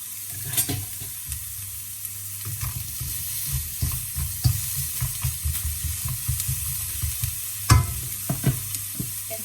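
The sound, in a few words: onion frying in an oiled pan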